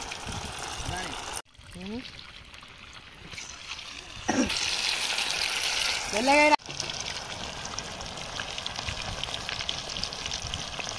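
Chicken pakoda deep frying in hot oil outdoors under a tree, a steady bubbling sizzle running throughout with brief louder bursts and small clinks, while people talk in the background.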